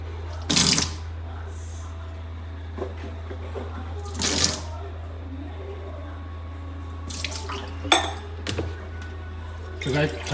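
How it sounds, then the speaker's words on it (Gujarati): Tap water splashes into a jug in a few short bursts over a low steady hum, with light clinks of the container and a voice talking in between. "પહેલાં અમે પાણી ભરી લઈએ."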